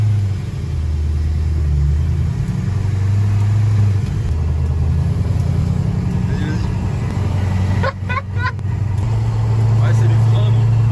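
Ford GT40 replica driving laps on a race circuit, a loud, steady low engine drone and rumble heard from inside the car, with a brief rattle near the end.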